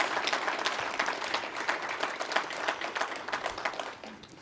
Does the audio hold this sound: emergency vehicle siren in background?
no